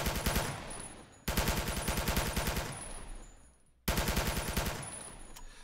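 Rapid automatic gunfire in sustained bursts from the video game 007 Quantum of Solace, loud and close, with a short pause before each new volley; no voices.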